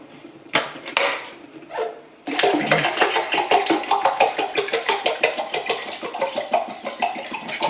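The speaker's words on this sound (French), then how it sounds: "je vais mettre de l'eau directement dans le pot" Water poured straight into the pot of an indoor houseplant, starting with a few splashy bursts before settling into a steady, close trickle and patter into the soil.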